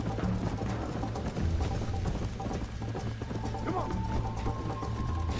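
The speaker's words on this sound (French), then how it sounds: "Cheval!" Horse hooves clip-clop steadily in Red Dead Redemption, a continuous galloping rhythm at moderate level with faint game ambience and occasional low voices.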